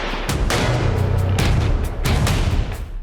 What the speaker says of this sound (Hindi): गोलियों की तड़तड़ाहट गूंजी तो भगदड़ मच गई।